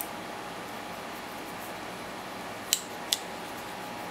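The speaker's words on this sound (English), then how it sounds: "a pair of spring-loaded scissors" Spring-loaded scissors on a Gerber Fit flashlight multitool give two brief, sharp clicks about half a second apart, close by, over a faint steady background hiss.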